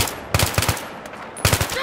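Two short bursts of automatic gunfire in Battlefield 3, each a rapid run of four or five loud, close shots separated by a brief pause.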